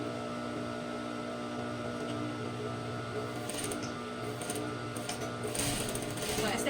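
A sewing machine stitches a fabric tote bag, running as a steady mechanical hum with faint rapid clatter, moderately quiet and growing slightly busier toward the end.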